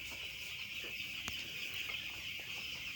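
A flock of broiler chickens clucks and chirps in a steady, faint din while drinking Gumboro vaccine water in a poultry shed. One slightly louder cluck stands out, and no one speaks.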